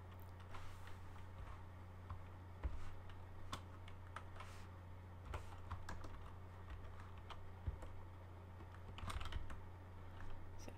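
Someone types code by hand on a computer keyboard, producing a steady run of quiet, close key clicks with irregular spacing and occasional louder taps. Nobody speaks.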